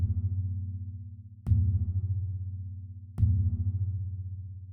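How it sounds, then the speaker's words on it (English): Low synthesized percussion from the Opal drum synth in Ableton Live, a deep booming hit struck three times at steady intervals, each with a pulsing, slowly fading tail in the low end. "The sound I've built for today is a low percussion sound because I wanted something to fill"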